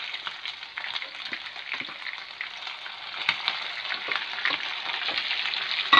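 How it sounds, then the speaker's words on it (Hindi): Chicken for a jalfrezi fries in a pan with a steady, dense sizzle and crackle, close and fairly loud, with occasional stirring scrapes and no talk throughout. "अब ये चिकन अच्छी तरह से फ्राई हो चुका है।"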